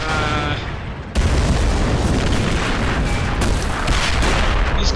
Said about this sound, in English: I think it's about time to send in some more artillery strikes.